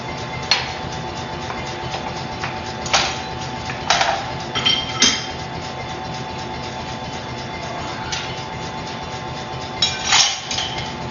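Hammer forging knife steel on an anvil: a handful of sharp, ringing metallic strikes at irregular intervals, with longer pauses between them, over a steady background hum.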